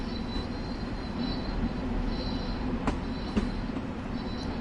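Train running in Train Sim World 2, a steady rumbling roll with a faint high whine and a couple of brief clicks from the wheels, continuous and fairly close with no talking.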